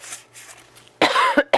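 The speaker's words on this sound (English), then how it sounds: "I'm going to have to edit out all my coughing." A person recovering from the flu coughs, with a few harsh, close bursts after a quiet moment, the last ones short and separated by brief pauses.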